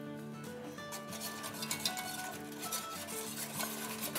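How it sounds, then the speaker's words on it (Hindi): A whisk stirs custard powder and sugar in a bowl with a faint, continuous swishing rub, quiet and unbroken throughout. "ये हमने अच्छे से विस्क कर दिया"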